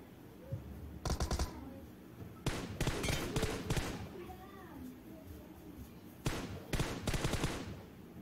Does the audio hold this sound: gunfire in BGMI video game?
yes